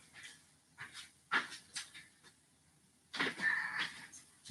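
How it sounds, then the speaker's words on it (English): A guard dog pants in short, uneven breathy bursts at close range, with a longer run of rapid panting near the end. "The guard dog has gone to the front door."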